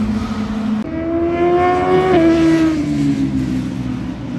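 Manual 2006 Acura TSX (CL9) engine revving steadily and loudly up through the gears, with a smooth rising-then-falling drone and a brief drop near the start, no talking.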